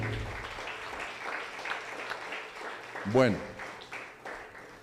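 A short burst of clapping from a church congregation rises briefly over a steady background of murmuring voices and room noise.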